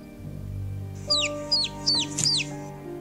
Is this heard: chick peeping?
yes